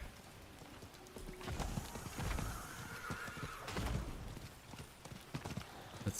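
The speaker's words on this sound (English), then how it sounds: "Okay, clip clop." In Diablo 4, a horse's hooves clip-clop in an uneven trotting rhythm along with a whinny, moderately close and fairly quiet, with no talking during the sounds.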